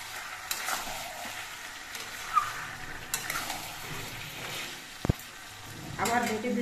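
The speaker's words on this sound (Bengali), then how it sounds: "আমি 2-3 মিনিট পর ঢাকনাটা খুলে নিলাম আর চিকেনটা নেড়ে চেড়ে দিয়ে দিচ্ছি" Chicken in a red curry gravy is stirred in a pot partway through braising, giving soft scraping and sizzle with intermittent sharper utensil knocks and a brief loud clack near the end.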